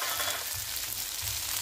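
Green tomatoes frying with cut chillies and garlic cloves in a pan over medium-low heat, a steady close hiss of sizzling oil that runs unbroken, with faint low bumps of stirring underneath.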